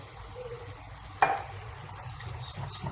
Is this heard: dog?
no